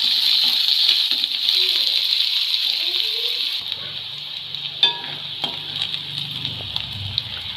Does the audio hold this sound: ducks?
no